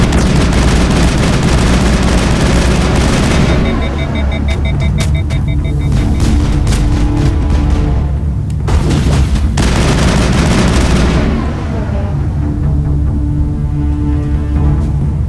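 Sustained machine gun fire in the video game Mass Effect, a loud, dense roar of rapid shots and booms that runs almost the whole time with only brief lulls.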